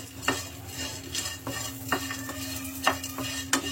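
Coconut and curry leaves being stirred and roasted in a pan, with a steady soft sizzle and repeated scraping strokes of a spoon, close and fairly quiet, no voices.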